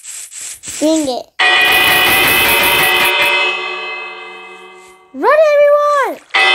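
A village bell in Minecraft rings a long sustained metallic tone that slowly fades, with excited children's voices calling out before and after it.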